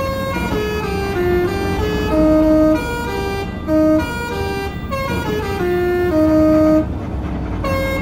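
Telolet musical horn on a Haryanto Patas bus leaving its garage in Kudus, Euro Truck Simulator 2, loud melodic toots in changing pitches, played in repeated short phrases over a steady engine drone.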